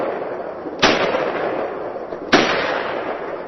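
Two sharp gunshots from a gun fired at targets, spaced about a second and a half apart, each loud and close with a short echoing decay over steady outdoor background noise.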